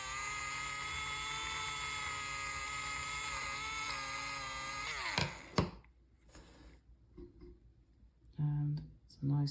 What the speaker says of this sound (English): So to sharpen my electric eraser, I just hold it down on its side.